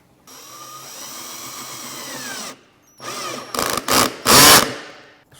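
A cordless drill driving screws to fix a guttering clip onto a fascia board, a steady whirring run, a short pause, then several louder revving bursts close by, no talking.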